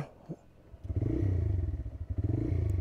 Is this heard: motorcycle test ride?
yes